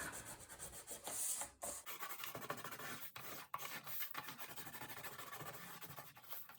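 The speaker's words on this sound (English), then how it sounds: "Make sure to burnish this down really well so that it's adhered and won't come up from your cardstock." Paper is burnished onto cardstock for a Stamperia mini album page, a close, quiet rubbing and scraping that runs in repeated strokes with short pauses, alone without voices.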